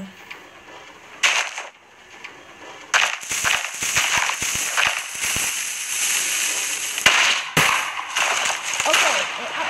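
Explosive cannon blasts in the Minecraft video game, a run of loud sharp bangs and crackling bursts, some clustered and some spaced out, with a player's voice talking over them.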